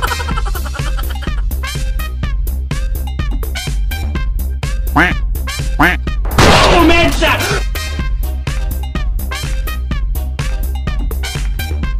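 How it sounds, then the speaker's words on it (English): Rapid, repeated duck quacks in the Mobile Legends: Bang Bang video game, loud and rhythmic over busy game effects, with a brief burst of noisier action midway. "quack, quack,"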